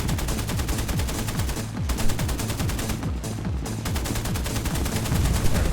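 Typhoon Mk.1b aircraft cannons fire in rapid continuous bursts in a flight combat video game, a dense loud rattle with brief gaps between volleys.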